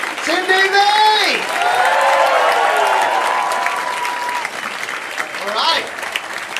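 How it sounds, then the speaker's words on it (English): Audience applause for comedian Sindhu Vee at a Comic Boom comedy club night, loud sustained clapping from a live crowd with cheering voices rising over it, easing slightly toward the end. "Give a round of applause to the action you've just seen"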